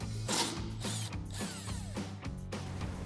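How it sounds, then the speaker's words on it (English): A 12mm socket on a ratchet backs off bumper bracket nuts on a 2014-2021 Toyota Tundra, giving steady, close, rapid clicking of the pawl throughout, with no talk. "using a 12mm socket, we're going to release these two nuts here"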